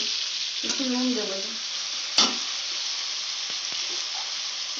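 Vegetables sizzle in hot oil for chire polao, a steady bright frying hiss throughout with a short clatter of stirring and a sharp tap partway through.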